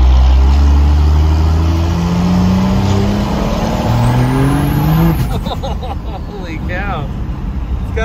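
An old Cummins diesel truck accelerates hard, its engine roaring loudly and rising in pitch as the slow turbo spools up, then the engine note drops and settles.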